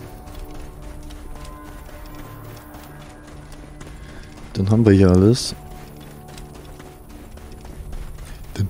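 Horse hooves clip-clopping in Assassin's Creed Origins, a steady trotting patter with a brief loud whinny midway, while someone speaks German over it.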